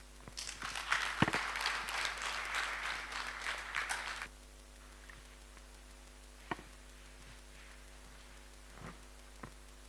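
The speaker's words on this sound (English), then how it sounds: "Another clap." Audience applause at a public university lecture before a graduation, a burst of clapping for about four seconds that stops abruptly, followed by near silence with steady hum and a few faint ticks.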